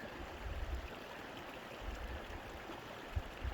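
Horse Creek, a mountain stream, flows with a steady broadband rush and gurgle, close and continuous, with occasional low bumps of handling or wind and no speech.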